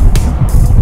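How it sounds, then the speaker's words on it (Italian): Car engine noise recorded inside a taxi in Primavalle, Rome, a steady loud low rumble running throughout with faint brief hiss bursts above it, no talking. "anche che c'è il rumore della macchina"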